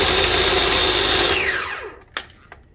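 A food processor whirs loudly while pulsing garlic scape pesto with lemon juice. The motor winds down with a falling whine, followed by a couple of sharp clicks and knocks as it stops.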